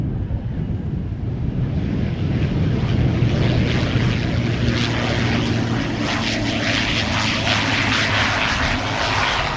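An airliner arriving to land at Amsterdam Schiphol Airport roars steadily and close, its engines droning loud throughout with a wind-buffeted rush over the microphone.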